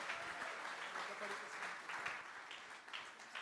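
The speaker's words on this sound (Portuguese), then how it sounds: "dê uma salva de palmas, receba aqui o pastor Miguel Ângelo." Church congregation applauding during a Sunday worship service, a steady broad wash of clapping that carries on for the whole stretch at moderate level, with a little background voice mixed in.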